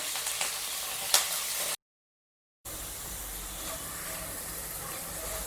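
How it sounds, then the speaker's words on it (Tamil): Ridge gourd peel frying in hot oil in a pan, a steady bright sizzling hiss, close and fairly loud, briefly cut to silence partway before resuming. "அதில் நம்ம எடுத்து வச்சுருக்க பீக்கங்காய் தோலை போட்டு வறுத்துடலாம்"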